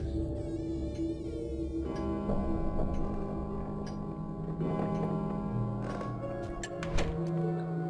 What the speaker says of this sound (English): even the room noises of, like, a grandfather clock ticking